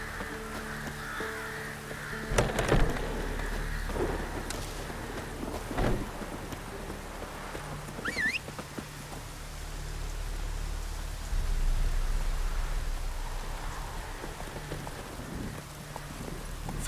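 A rain downpour in The Witcher 3 video game hisses steadily throughout, while crows caw loudly several times over the rainfall.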